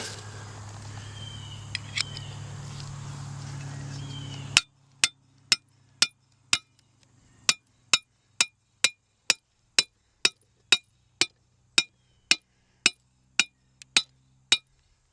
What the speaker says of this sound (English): Get our earth anchor set.